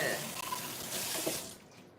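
Water runs steadily from a tap into a kitchen sink at home while dishes are being washed, a continuous close hiss that fades out near the end.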